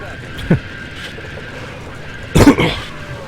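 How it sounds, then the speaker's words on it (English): A man coughs close into a microphone during a live stream, one short sharp cough followed a couple of seconds later by a louder burst of two or three harsh coughs over faint background hum. "I did not mean to cough right in the microphone."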